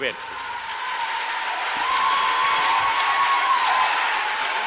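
An audience applauds after an anti-nuclear speech, with sustained, even clapping that grows slightly louder and fills the room, a faint steady tone running beneath it.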